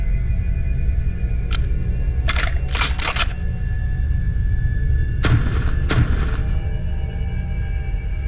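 Video game gunshots ring out as sharp, percussive bursts, several scattered shots including closely spaced pairs, loud against a steady low rumbling background.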